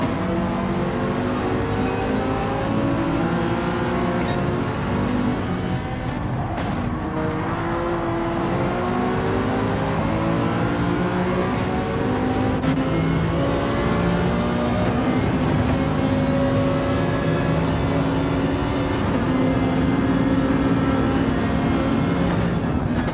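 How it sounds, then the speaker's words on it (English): Ferrari race car engine in Gran Turismo 7 revs loudly and continuously for the whole stretch, rising and falling pitch sweeps layered over a steady mechanical roar, with other engines blending in. "Boy, that Ferrari sounds great, doesn't it?"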